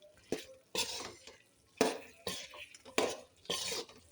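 Chicken being tossed and mixed with pepper and masala spices in a pan, a series of separate wet, scraping stirs in uneven bursts with quiet gaps between.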